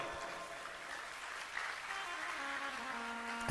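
A seated crowd at a Shiv Puran katha gathering claps together in a soft, distant, continuous patter of applause for a few seconds.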